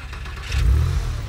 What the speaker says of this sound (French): Ok, un bruit de voiture de sport.